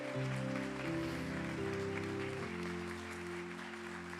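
Church congregation applauding during a sermon, a steady wash of clapping that runs the whole time beneath loud sustained keyboard or organ chords.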